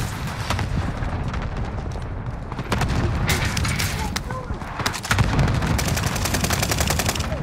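Rapid, dense gunfire in a SWAT video game, bursts of shots running almost the whole time with heavier booms, loud and close, with players talking over the shooting.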